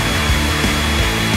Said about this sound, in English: You just need to pour them on a plate and warm them up. For example, with a hairdryer.